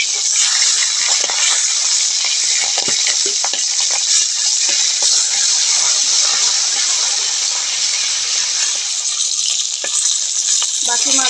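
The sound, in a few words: fish frying in oil after being flipped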